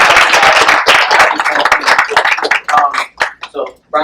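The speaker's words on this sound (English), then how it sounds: "round of applause to Stella" Close, loud clapping from an audience at a county candidate forum, uneven and thinning out toward the end, with voices mixed in.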